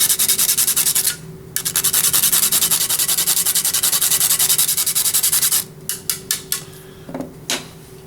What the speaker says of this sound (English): Grating some cinnamon stick.